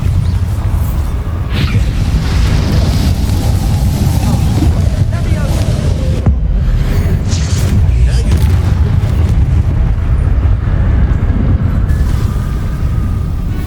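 A Bombarda spell explodes in a magic-themed video game, a loud, sustained booming roar with heavy low rumble and a blast surge midway, while a voice is faintly present under the din.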